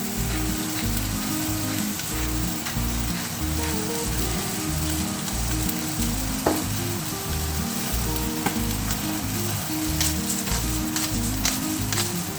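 Spinach sizzling on an outdoor grill while seasoned with salt and pepper, a steady crackling fry with a rhythmic low thumping underneath, continuous and close throughout.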